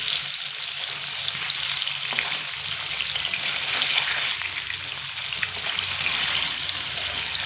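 Paneer cubes fry in oil with a dense, steady close-up sizzle that stays fairly even from start to finish, with no voices.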